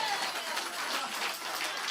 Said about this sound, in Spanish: ¿Cuántos pueden aplaudir al Dios del cielo en esta hora?